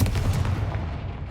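A Confringo blasting spell in the game Hogwarts Legacy goes off as a single deep, booming explosion burst with a rumbling low tail that fades over about a second, heard close and loud with no talk.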